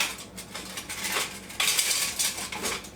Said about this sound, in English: Let me see if I got a little spoon here.